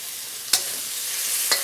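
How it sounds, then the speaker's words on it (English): Beef lo mein stir-fries with chili crisp sauce in a hot pan, a loud steady sizzle broken by two sharp scraping strokes of the stirring utensil. "Give it that stir."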